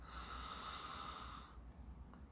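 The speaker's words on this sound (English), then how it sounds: "how about we take a quick sniff of this baby right here" A person takes a quick sniff of a tin of matte beard paste, a short nasal inhale lasting over a second, close and soft, followed by faint quiet breathing.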